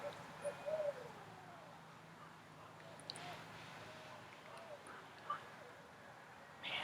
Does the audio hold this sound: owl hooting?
yes